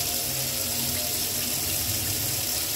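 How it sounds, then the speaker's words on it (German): Water runs steadily from a kitchen tap as a continuous close hiss and splash, filling the whole stretch with no pauses or talking. "Wasser lasse ich kurz laufen"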